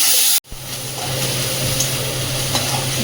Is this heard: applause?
no